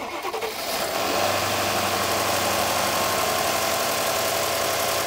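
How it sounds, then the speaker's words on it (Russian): A Mercedes-Benz S-class engine cold starts with a brief crank, then settles into a steady, loud idle that holds evenly, heard close with no talk. "Итак, холодный пуск двигателя."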